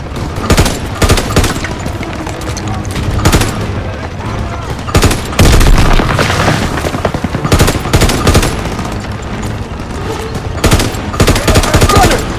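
MG42 machine-gun fire in the video game Call of Duty WW2 rattles loudly in rapid, repeated bursts, with other gunfire and booms of a battle behind it and voices shouting over the noise.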